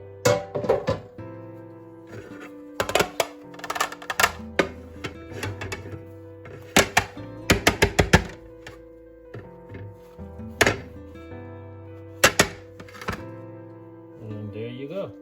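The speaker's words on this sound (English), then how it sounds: "put my gloves on again to flip this over. Get it out of the air fryer here, the pan." A banana bread pan being pulled from an air fryer and flipped over with gloved hands, giving a scattered run of sharp thunks and knocks against a low steady hum, some clustered and loud, others spaced apart.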